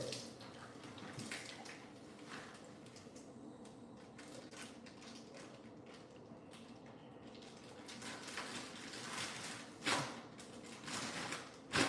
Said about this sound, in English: Did you know that you could actually wash your Ziploc bag to reuse?